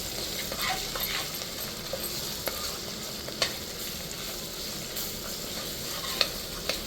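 Ginger garlic paste stirred into fried onions in a pan for Guntur gongura pulao; a steady close sizzle runs throughout, with a few sharp utensil scrapes and clicks against the pan.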